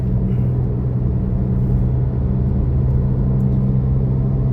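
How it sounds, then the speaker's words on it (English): A camper van bus cruises past on an Australian road, a steady close engine rumble and low road drone holding evenly throughout with no talk over it. "here comes a nice looking groovy bus. It's a camper, I'd reckon."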